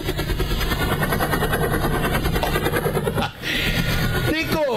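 A loud, close helicopter with a pulsing rotor thump and engine whine runs continuously, dipping briefly near the end.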